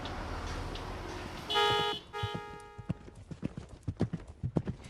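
Horse hooves clip-clopping on a hard surface in a quick, uneven rhythm of sharp knocks, fairly close, following a short burst of buzzing tones and a whinny-like sound, with no talk.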